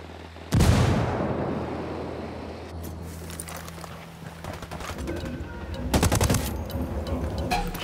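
Sniper fire in Ghost Recon Wildlands cracks out in a loud, sharp shot followed by a decaying rumble, then quieter rustling before another cluster of close, sharp shots near the end.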